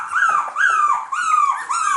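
Young cockapoo puppies whimper and whine close by in four high, drawn-out cries, each rising and then sliding down, separated by brief pauses.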